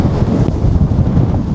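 Strong wind beside a lake at the Semipalatinsk Polygon nuclear test site in Kazakhstan buffets the microphone in a loud, unbroken roar for a brief moment.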